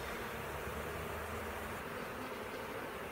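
A dense, steady hum of many honey bees buzzing around an exposed hive opened up during a colony cut-out, a continuous close swarm drone with no talking.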